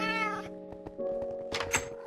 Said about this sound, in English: Oh, you bought me a cat, guys! You got me a cat.